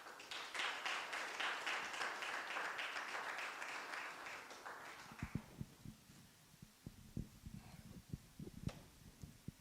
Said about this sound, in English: Another round of applause, ladies and gentlemen, for Dr. Caesar.